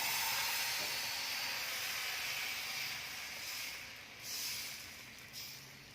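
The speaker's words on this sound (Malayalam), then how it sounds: "ഒരു തവി മാവ് ഇതിലോട്ടേക്ക് ഒരു പാനിലേക്ക് ഒഴിച്ചു കൊടുക്കാം" Crêpe-thin batter for chicken roll wrappers, one ladleful poured into a hot pan, sizzles and hisses steadily, fading slightly toward the end.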